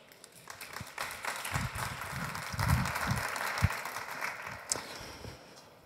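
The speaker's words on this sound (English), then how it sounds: "So please give a round of applause for Siim." Audience applause at a medtech startup showcase on a conference stage in Estonia, a dense burst of clapping that swells to a peak mid-clip and then tapers off, with no voices over it.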